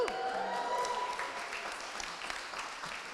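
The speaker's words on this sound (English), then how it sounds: "people were literally cheering for something they've never heard of" An indoor audience claps and cheers in a dense, steady round of applause. The sound is moderately close and keeps going with no pauses.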